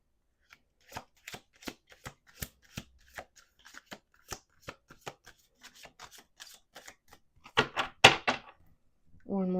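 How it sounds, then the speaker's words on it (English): Crisp, rapid riffling bursts of cards being shuffled, repeated about a dozen times in an even rhythm, followed by a brief louder burst of talk near the end. "Let's do two more shuffles."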